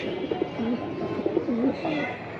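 Pigeons at a pigeon sale coo in several soft, repeated rolling phrases close by, over a low background hum of the surroundings.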